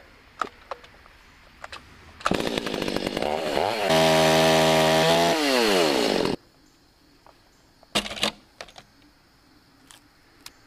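A Stihl 025 chainsaw fitted with an oversized bar, milling lumber with a lumber mate: a sudden loud revving burst rises and holds at high speed for several seconds, then stops, with scattered clicks and knocks before and after.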